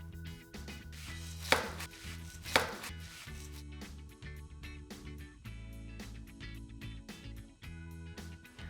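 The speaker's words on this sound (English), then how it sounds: "So now we're just gonna chop up some veggies for the sandwiches." A knife chops tomato, avocado and onion on a cutting board, giving a close, steady run of sharp knocks, with a couple of louder strikes partway through and no talking.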